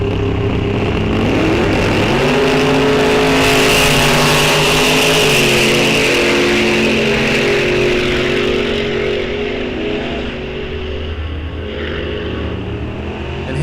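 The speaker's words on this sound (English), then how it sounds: "Couple of fast Chevy 2s out there right now." Chevy II drag race cars roar down the strip at a bracket race at Rock Falls Raceway, loud sustained engine howl with shifting harmonic tones across the pass, easing slightly toward the end, with no voices.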